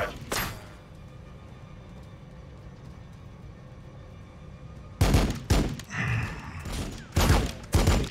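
Units fire weapons in Warhammer 40,000: Battlesector, a Necron battle: after a single early blast and a long low rumble, a cluster of loud broadband gunfire bursts erupts near the end, with a few shots ringing out close together.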